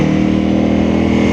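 A 2022 Honda CRF300L in Supermoto trim drones steadily with a loud, even engine note while riding on the Blue Ridge Parkway.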